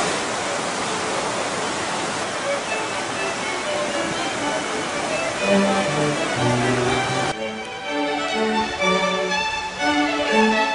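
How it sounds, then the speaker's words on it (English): A river in Olympus National Park rushing over rocks, a loud, continuous broadband roar of flowing water with no breaks; a tonal background of music also runs through it. "And that's where we're going to cross the river."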